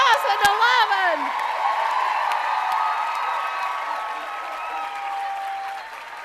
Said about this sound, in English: Please join me in a round of applause for our graduates, the class of 2011.